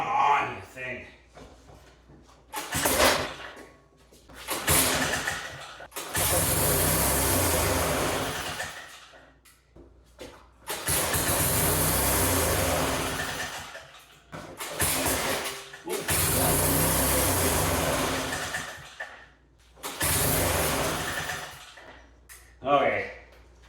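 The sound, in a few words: old engine being started, carburetor needs work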